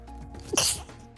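A single sharp human sneeze, a brief inhaled lead-in then a bright burst of noise, fairly close against a quiet background.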